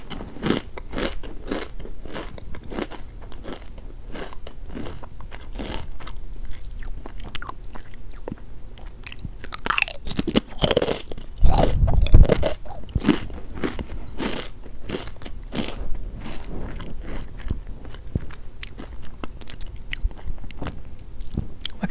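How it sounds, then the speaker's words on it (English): Pickle-flavored potato chips are bitten and chewed up close, giving loud, repeated crisp crunches in an irregular rhythm, with a burst of heavier crunching midway and no talking. "they're pretty high on the crunch scale, but they're pretty low on the pickle scale"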